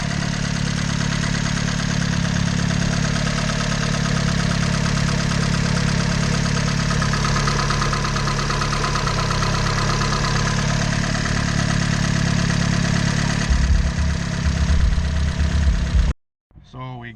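Honda Civic engine with decapped LS injectors idling steadily after a tune-up, a loud continuous low rumble that holds even for about sixteen seconds before cutting off abruptly.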